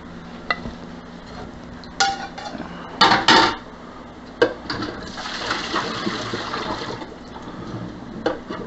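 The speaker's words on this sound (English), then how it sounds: "Washing your cucumber." A cucumber is rinsed under a running tap, with water splashing and gurgling unevenly and a few louder bursts of spray and clatter against a sink.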